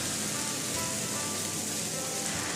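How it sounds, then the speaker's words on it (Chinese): Minced meat stir-fried in hot oil with ginger and garlic in a wok, giving a loud, steady, dense sizzle that holds evenly from start to end with no voices. "再下入肉末翻炒"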